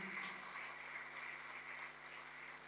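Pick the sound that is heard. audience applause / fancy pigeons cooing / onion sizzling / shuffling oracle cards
audience applause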